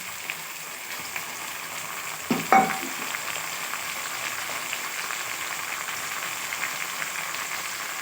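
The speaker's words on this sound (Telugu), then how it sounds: "ఇప్పుడైతే నేను టమోటాలు కూడా వేసేసుకుంటున్నాను" Chopped tomatoes hit a pan of browned onions for egg masala, giving a constant soft sizzle with one brief louder clatter of stirring early on, nearby and with no talking.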